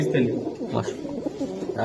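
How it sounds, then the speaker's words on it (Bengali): Pigeons coo in low, throaty murmurs at a pigeon market with racing and Pakistani breeds for sale, heard under nearby voices and general market chatter. "এটা কি পাকিস্তানি কবুতর"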